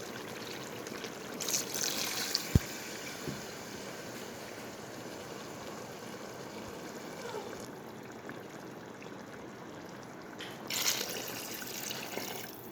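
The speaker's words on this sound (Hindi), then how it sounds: "तीन गिलास पानी मैंने शामिल कर दिया है।" Three glasses of water pour steadily into a cooking pot for chicken curry, a continuous soft trickling stream with a couple of faint clinks and brief louder splashes.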